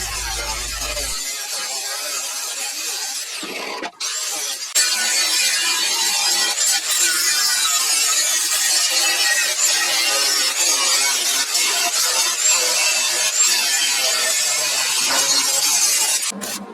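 A power saw cuts two small pieces of leftover metal from an old muffler guard in a workshop, a loud, continuous harsh grinding whine that holds almost unbroken after a brief pause near the start.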